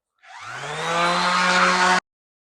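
A power sander runs on driftwood with 60 grit sandpaper, a single loud, steady whine that starts abruptly, holds for under two seconds and then cuts off, heard alone.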